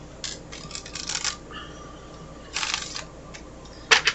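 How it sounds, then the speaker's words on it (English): An oracle card deck is shuffled in a few brisk bursts of papery riffling and flicking, close and crisp, with quiet pauses between them and no voices. "So, let's give this a shuffle."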